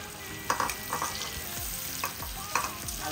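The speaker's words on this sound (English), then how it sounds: "I'll put in some onions." Onions going into a hot pan for rice, with a steady frying sizzle under repeated spoon stirs and scraping knocks, fairly close and continuous, no talking.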